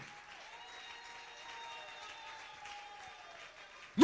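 A church congregation applauding and cheering for the Lord, a steady wash of clapping from the crowd held at moderate volume throughout, with a faint sustained tone underneath and a sudden loud burst at the very end.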